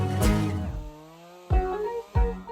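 A chainsaw cutting logs outdoors on an off-grid UK self-build site in winter: the engine revs up loudly, drops to a lower idle, then gives two short, sharp bursts of throttle.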